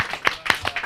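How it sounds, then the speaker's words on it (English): Studio audience clapping on a hip-hop talk show, heard as several sharp, fairly close claps spaced unevenly across a short stretch, with little else underneath. "All right, clap it up."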